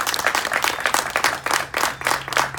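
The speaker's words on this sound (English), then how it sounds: "So give yourselves a round of applause for everything you've done" A ceremony crowd at an animal-shelter check presentation claps in uneven, pulsing bursts, fairly close and lively, with a low steady hum beneath.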